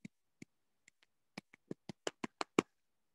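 Claps from students in a Grade 8 civics class ring out separately at first, then come faster and louder, about a dozen sharp, close claps ending in the strongest one.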